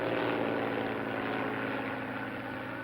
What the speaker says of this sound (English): Here comes the plane.